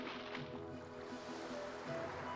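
Ocean waves in the video game Legend of Legaia, a faint, steady wash of surf with a soft low rumble and a faint tonal game hum underneath, no talking.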